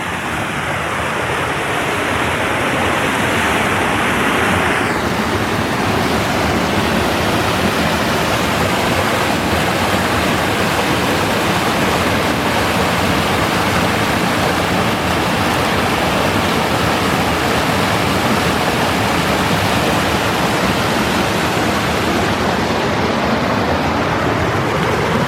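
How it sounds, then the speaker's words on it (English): A winter creek rushes through ice and snow in a steady, loud, broadband roar of churning water that holds unbroken from start to finish. "Tons of ice, tons of wonderful noise, and the creek in the snow"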